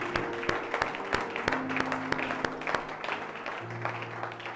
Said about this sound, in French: Nous acclamons très très fort à l'honneur de Jésus.